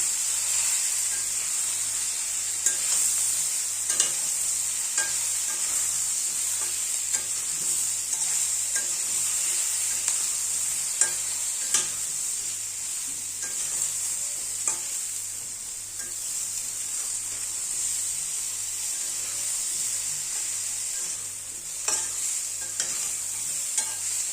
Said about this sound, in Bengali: ভালো করে এবার আলু আর বেগুনগুলো ভেজে নেবো।